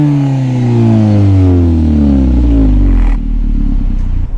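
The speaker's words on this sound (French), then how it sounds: "On va écouter un petit peu la ligne Miltech du coup." A Seat Cupra 6P with a Miltech exhaust line revs up hard nearby, its deep note climbing in pitch, then drops sharply back to a loud, rumbling idle.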